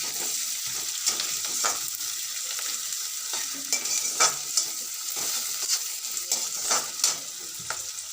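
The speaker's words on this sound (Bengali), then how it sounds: "মিনিট 2 আমি পেঁয়াজটা ভেজে নেবো।" Onions fry in a pan for an egg dish, a constant soft sizzle broken by repeated scraping stirs that come at an irregular rhythm, close by and with no talking.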